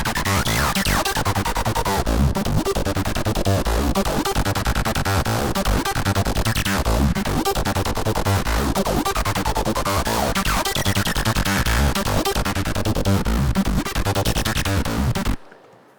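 A dense, harsh synthesizer texture processed with phase distortion, gritty and phasey in timbre, playing continuously and loudly before ending abruptly.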